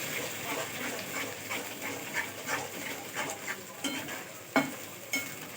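Mustard greens saag being stirred and mixed in a pan, a soft, faint scraping and squelching with irregular spoon strokes and a few sharper clinks, no talking.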